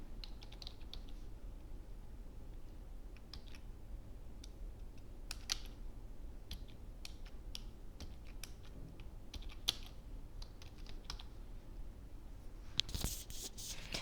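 Code for a Pine Script tutorial is typed at a quiet pace, giving scattered, soft keyboard clicks over faint room noise and closing with a brief louder clatter.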